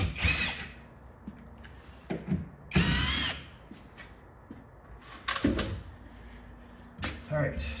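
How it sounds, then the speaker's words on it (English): Short bursts of a cordless power drill backing screws out of an arcade game cabinet, several separate whirring runs with gaps, someone talking between them. "I got my drill here. What do we have for screws?"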